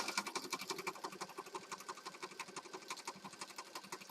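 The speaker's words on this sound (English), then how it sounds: "I'm going to go over to the sewing machine, and I'm going to stitch down this center." A sewing machine stitches down the center of a paper heart pocket, running as a steady, rapid mechanical chatter with even pulses throughout, close and alone.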